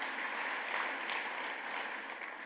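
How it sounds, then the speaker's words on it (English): Sustained applause from a crowd at an annual meeting and awards luncheon, a steady wash of clapping at moderate volume that holds evenly throughout. "So a round of applause for our entire team"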